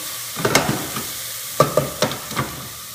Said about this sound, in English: all we're doing is sweating the vegetables